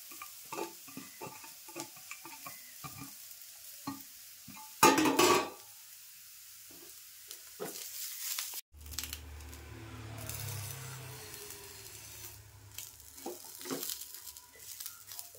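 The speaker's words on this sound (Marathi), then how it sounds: "आता मी ना खोबरं पण टाकून लगेच भाजून घेते" Onion and grated coconut roast in a pan for Malvani chicken, with a soft sizzle and stirring scrapes, a sharp clatter of utensils partway through, then a lower, steady frying hiss.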